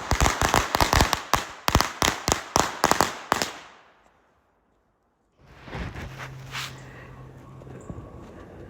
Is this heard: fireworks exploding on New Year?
yes